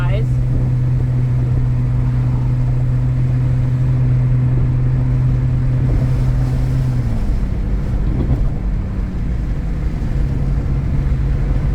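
A 2009 Ford Edge drives along a road, with a loud steady rush of road and wind noise inside the cabin and an engine hum whose pitch shifts partway through.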